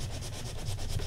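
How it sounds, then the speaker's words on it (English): Sandpaper is rubbed lightly across a paper card in quick back-and-forth strokes, making a soft, continuous scratchy hiss close to the microphone. "And I'm just lightly sanding it."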